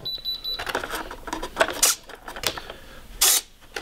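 Servos in a scratch-built Flite Test Old Fogey RC plane twitch as the receiver powers on, with a faint beep followed by several short, close mechanical whirs and buzzes in quick bursts, without talking.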